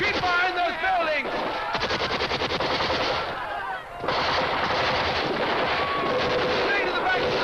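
Sustained gunfire at buildings in a 1960 war film battle scene, with rapid machine-gun bursts and scattered rifle shots crackling loud and dense throughout, briefly thinning midway before resuming, with shouted voices mixed in.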